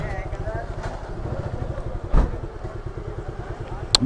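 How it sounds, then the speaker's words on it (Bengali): A motorcycle engine idles nearby with a steady low rumble and a few clattering knocks as the bike is parked along the road to Khaiyachara waterfall, with people talking over it. "বাইক রাখবো বাইক"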